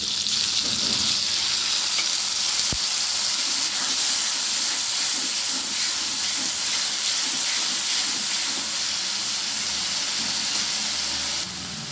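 Ginger and onion paste fry in a pan with potatoes for a mrigal fish curry with cauliflower. A dense, steady sizzle and hiss runs throughout, with one sharp utensil click early on.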